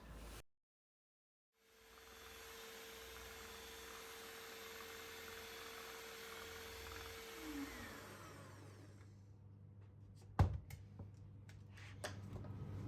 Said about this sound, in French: je viens mélanger au batteur, donc jusqu'à obtenir un mélange qui soit blanc et mousseux